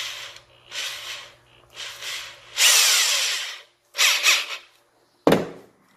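A new Black & Decker 5.5 amp drill/driver runs in several short bursts of whirring, with pauses between them and a final brief rattle.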